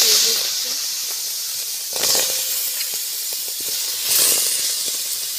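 Water poured into a hot wok of potatoes set to boil, giving a loud steaming hiss that surges and fades in waves, with no talking over it.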